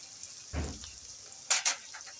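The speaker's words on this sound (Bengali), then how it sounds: "পেঁয়াজ টমেটো ভাজা ভাজা হয়ে গেছে।" Onion and tomato frying in a pan give a soft, low sizzle, punctuated by a few short clinks and stirring bursts close by, with no voices.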